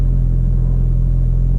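A car engine idling roughly and lumpily just after a cold start, a loud steady low rumble running close and unbroken throughout.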